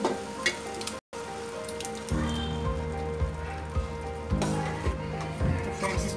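Boiled lentils tipped into hot frying masala for dal makhani, a steady close sizzle with a sudden wetter burst and thumps as the dal lands, then continued bubbling hiss with occasional stirring knocks.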